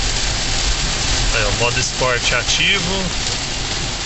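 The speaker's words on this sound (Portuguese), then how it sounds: "novamente pegando uma chuva bem forte aí" Heavy rain drums steadily on a Caoa Chery iCar electric car while driving on a highway, a constant loud wash of noise with someone talking over it.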